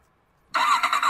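Without warning, an Odyssey electric bike's rear speaker plays a synthetic petrol engine start and idle. The sound is loud, close and buzzy, with a pulsing rhythm, and there is no talk.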